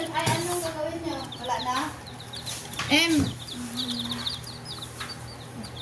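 Chickens cluck and chirp in a yard as they peck at cooked rice scattered near their makeshift pen, several close calls overlapping with a person talking nearby.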